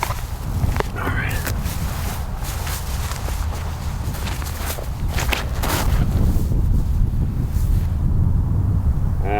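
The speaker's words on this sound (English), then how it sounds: "Wind is tough." Wind buffets a microphone outdoors during a disc golf round, a constant rough rumble with intermittent footsteps and gusts throughout.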